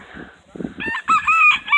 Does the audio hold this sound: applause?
no